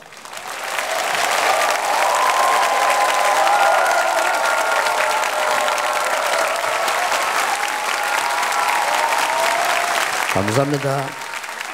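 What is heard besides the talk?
church congregation welcoming applause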